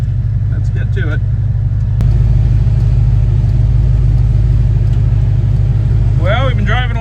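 A vehicle rolls slowly along a road on the way out for hay season, giving off a loud, steady low engine rumble throughout, with brief voices at the start and near the end.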